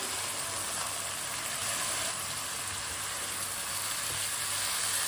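Eggplant, peas, chopped tomato and green chilies cook over a high flame, giving a loud, continuous close-up sizzle that stays even throughout, with no voices.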